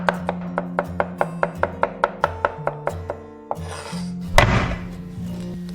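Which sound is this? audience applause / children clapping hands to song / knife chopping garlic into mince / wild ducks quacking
knife chopping garlic into mince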